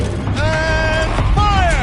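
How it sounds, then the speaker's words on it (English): A machine turret rotates in Horizon Zero Dawn, giving a continuous mechanical creaking and grinding with rising and falling whines, loud and close, with no talk over it. "Rotate turret!"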